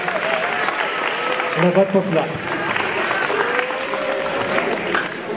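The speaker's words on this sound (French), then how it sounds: "Une bonne main d'applaudissements pour" A crowd at a school science expo claps steadily under someone speaking, a moderately loud continuous patter of hands throughout.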